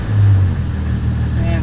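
A 1998 Jeep Cherokee XJ engine idles with a steady low rumble close by, a continuous drone without revving.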